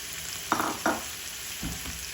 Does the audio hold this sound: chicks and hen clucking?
no